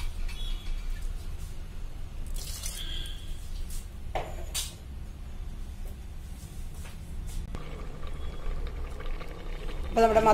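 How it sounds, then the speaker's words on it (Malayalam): Pumpkin curry bubbling in a pot on the stove, a soft continuous boiling hiss with occasional clinks and scrapes, close and steady throughout. "അപ്പോൾ നമ്മുടെ മത്തങ്ങ നല്ലതുപോലെ തിളച്ചിട്ടുണ്ട്"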